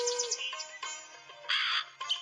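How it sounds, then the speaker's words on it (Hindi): A cartoon crow in an animated children's story caws repeatedly in short, harsh, nasal bursts, loud and close, with a few brief gaps between calls. "कौवा मुसलसल मेरे पीछे है"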